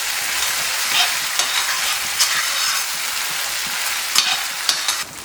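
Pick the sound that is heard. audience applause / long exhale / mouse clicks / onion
onion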